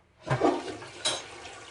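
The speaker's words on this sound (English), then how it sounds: "We want to hear the flush." An antique 1910s toilet flushes in a short burst: a sudden rush of water rises, then a second gush follows, heard close and moderately loud with no talking.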